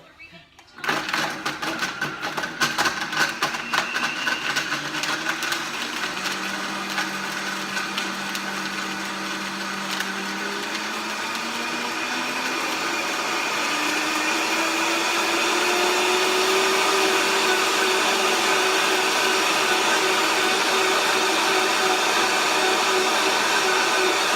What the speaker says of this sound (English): I don't like to use a lot at first, so it can grind or blend really well first before it gets too much liquid.